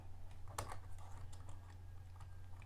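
Keycaps being levered and pulled off a computer keyboard with a keycap puller, giving a few sharp plastic clicks and snaps over a steady low hum, close up and fairly quiet.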